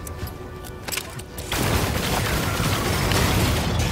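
A door blown open by an explosion in a sci-fi video game, heard as a sudden loud blast that gives way to a sustained roaring rumble, after quieter crackling gunfire-like bursts.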